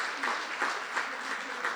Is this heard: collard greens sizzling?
no